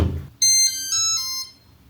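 A smartphone gives a short run of bright electronic beeps as it pairs with a car, three or four stepped tones close together, loud and clear with no talking.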